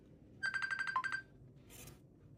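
An Infinix XWatch H5 Pro smartwatch plays a Messenger audio call ringtone, a quick run of bright electronic beeping tones, faint and close in a quiet room, followed by a brief hiss.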